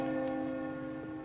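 A sustained, resonant bell tone with rich steady overtones hums in Wuthering Waves, lingering and slowly fading without a distinct new strike.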